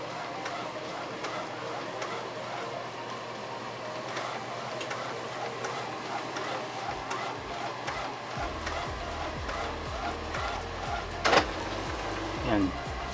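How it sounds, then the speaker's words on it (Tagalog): An A3 printer prints on paper with a rhythmic ticking and whirring as paper feeds through, mechanical clicks repeating steadily, with a couple of sharper clacks near the end. "So makakapag-print tayo sa mas malaking papel."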